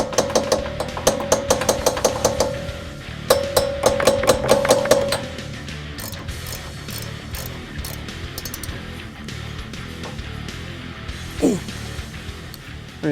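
A small hammer taps on a coil spring suspension part of a 2013 Focus ST, a run of quick sharp metallic strikes in two bursts, then sparser knocks and clanks with a brief voice.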